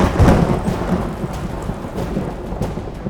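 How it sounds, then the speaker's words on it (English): A thunderstorm in a children's train-set scene: steady pouring rain hisses throughout, with a low rumble of thunder swelling near the start and then fading under the downpour. "The rain was pouring down on Sodor. There was thunder and lightning too."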